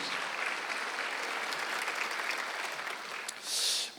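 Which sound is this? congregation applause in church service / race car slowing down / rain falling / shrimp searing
congregation applause in church service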